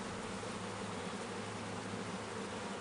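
Honeybees buzz steadily and closely at an open Langstroth hive during an inspection, a dense continuous hum with no pauses and no talk over it.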